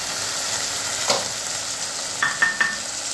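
Ground coriander and cumin frying for a home-style fish curry, a soft, steady sizzle with a few clinking spoon-on-pan stirring taps near the end.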